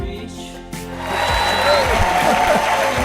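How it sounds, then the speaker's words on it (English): Audience applause at a live show rises after about a second and holds steady and full, mixed with voices and some musical tones. "Give yourself a warm round of applause."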